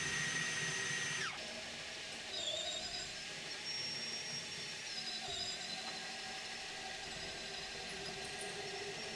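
A power drill whines at a high pitch while drilling with a little oil added, slowing and shifting tone as it bites, then continues running steadily at a faint, distant level.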